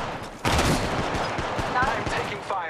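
Gunfire in Apex Legends Mobile, a dense barrage of shots and rapid automatic fire that continues with little pause, with a voice speaking amid the combat.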